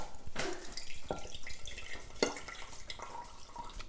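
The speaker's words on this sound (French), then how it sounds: "je vais enlever l'eau de mes fèves" Water drains off cooked broad beans, splashing and trickling close by in short uneven bursts with a few sharper splats.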